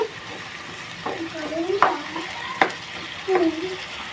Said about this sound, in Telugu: ఓసారి ఇలా మధ్య మధ్యలో కలుపుకుందామండి